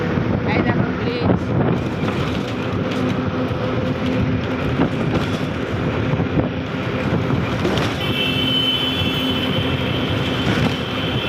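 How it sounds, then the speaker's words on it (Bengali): A train arriving at Howrah station in India, heard as a steady, loud mechanical rumble with rattling carriages and wind buffeting the microphone, plus a thin high squeal of wheels toward the end. "দেখো ওই ট্রেনটা এসেছে"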